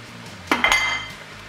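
A utensil stirs cabbage and green onions in a pan, giving a quick cluster of two or three metallic clanks and scrapes against the cookware, close and brief, with quiet before and after.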